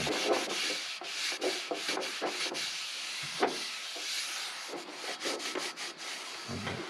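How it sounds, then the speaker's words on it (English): Folded paper towels rub oil into a cast iron pan, with steady scrubbing and wiping strokes in a close, dry rhythm, a few sharper scuffs along the way. "I just take my paper towels and I fold them up into a nice little blotter. And I just work that oil in."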